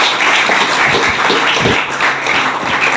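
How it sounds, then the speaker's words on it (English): A school audience at an inter-school declamation contest claps for the participants, a loud, dense round of applause with a few heavier claps standing out, steady across the whole stretch. "we must give a round of applause to all the participants today"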